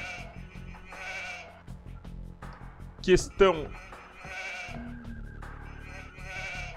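Sheep in the Age of Empires 2 video game give a couple of short, wavering bleats in the middle of steady talk, set against quiet game ambience.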